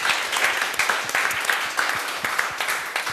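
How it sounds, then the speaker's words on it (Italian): An audience applauds on a children's talent show, dense even clapping from a crowd at fairly loud level, continuous for a few seconds, with a faint voice underneath. "un applauso a Bruno Nobili."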